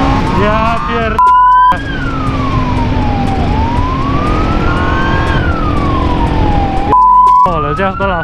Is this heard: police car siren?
yes